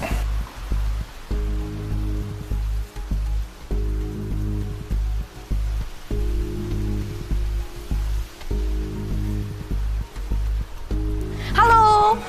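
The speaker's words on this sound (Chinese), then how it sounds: "这么大雨" Heavy rain falls during a typhoon as a steady, dense hiss that continues throughout, with a low rumbling undertone and a voice rising near the end.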